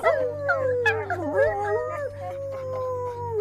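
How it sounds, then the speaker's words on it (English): Dogs howling and whining together, wavering high-pitched cries sliding up and down over a low steady hum, fairly close and sustained. "they let out a chorus of yelps and whines and wails and muzzled howls"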